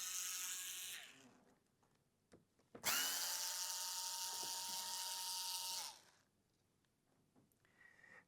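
A power screwdriver removes black countersunk screws during screen disassembly, giving a short whirring burst followed by a longer, steady, close motor whine of about three seconds. Quiet pauses fall between the runs, and a brief faint whir closes the sequence.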